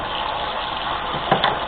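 Water splashes and gushes into a pan of pork chops, apple and mushrooms for about two seconds, with a brief louder splash near the end, close and alone.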